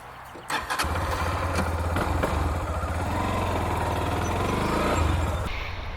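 A cafe racer motorcycle engine cranks and catches, then settles into a steady, throaty idle with a few blips of throttle, loud and close.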